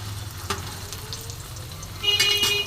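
Long-cut potato strips fry in hot oil in a home kitchen with a soft, steady sizzle and occasional crackles that grow slightly louder near the end.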